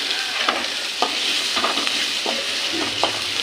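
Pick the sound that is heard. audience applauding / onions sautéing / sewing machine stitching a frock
onions sautéing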